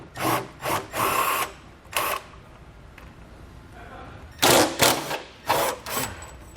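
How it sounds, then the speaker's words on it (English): Muffler bolt on a 2019 vehicle being unscrewed with a 13mm socket: short bursts of ratcheting and metallic clicks in several separate spurts, close by, with quiet gaps between. "So I'll use a 13mm socket to unscrew it."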